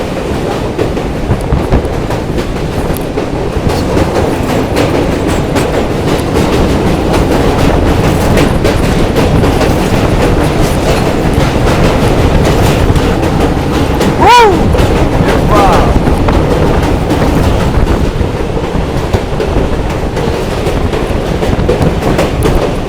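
A train hauled by twin WDG4 diesel locomotives with two more WDG4 bankers at the rear rumbles steadily and loudly, with continuous clattering wheels and a brief horn-like tone midway.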